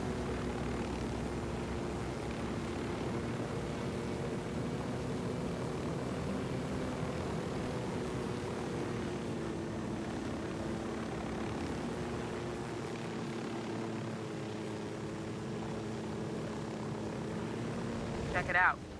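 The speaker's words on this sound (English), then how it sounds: "you're piloting the helicopter" A helicopter flies steadily in the video game Ghost Recon: Wildlands, its engine and rotor drone holding a constant low hum throughout, with a brief click near the end.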